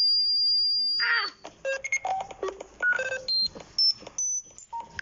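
Vatican emergency alert system alarm tones: a long sustained high beep, then a rapid jumble of short electronic tones and bleeps hopping between pitches, loud and close with no voices.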